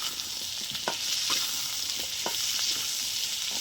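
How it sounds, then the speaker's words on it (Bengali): Potatoes and onions frying together in a wok for a tengra fish dish: a steady, close sizzle with several short scraping strokes as the mix is stirred. "তো আলু আর পেঁয়াজ একসঙ্গে ভাজা হবে,"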